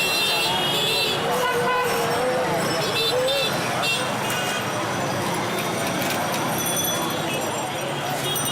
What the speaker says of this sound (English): Even if traffic is at a complete standstill, horns are always honking.